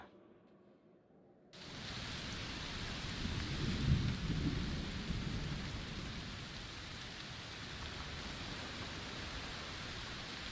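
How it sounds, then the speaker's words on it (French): In the video game A Plague Tale: Requiem, after a brief quiet moment, heavy rain suddenly pours down in a dense, steady hiss, with a low rumble of thunder rolling beneath it. "Il pleut très fort Oui, un orage de chaleur sûrement."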